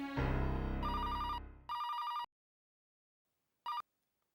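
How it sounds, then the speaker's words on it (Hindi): An electronic telephone ring sounds in short repeated bursts, clear and close, following a fading tone, with silence between the last rings. "मैं अभी आकांक्षा को फोन करता हूँ।"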